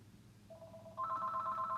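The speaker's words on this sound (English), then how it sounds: "This phone has been ringing off the hook" A telephone rings with a steady electronic tone that starts lower and then shifts to a brighter, higher pitch, heard fairly close over quiet background hum.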